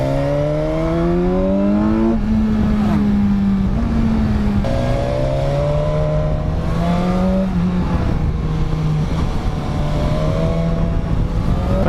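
A sport motorcycle engine accelerates hard on a mountain pass, pitch climbing through several gear changes with brief dips between shifts, loud and close against rushing wind noise.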